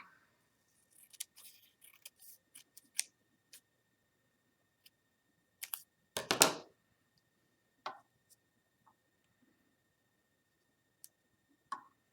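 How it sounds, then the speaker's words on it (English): Scissors snip through black paper in sparse, close clicks, with one heavier rustle of paper midway and long quiet gaps between cuts. "I just want to cut this apart to make all the little backbones"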